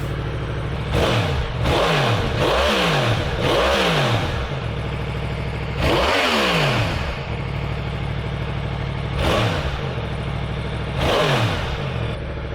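A 2023 Yamaha MT10 motorcycle on its standard exhaust with the exhaust valve off, idling close by and revving in a series of sharp throttle blips that rise and fall over a steady idle, with no talking.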